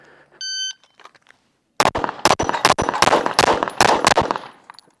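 Rapid pistol shots from a Phoenix Trinity Kovert Honcho v2 in a shooting game, a dozen or so loud sharp cracks in an uneven quick string, after a brief electronic beep.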